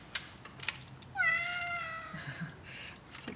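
A cat gives one drawn-out, clear meow, close by, amid quiet clicks and small workshop clatter from nearby assembly work.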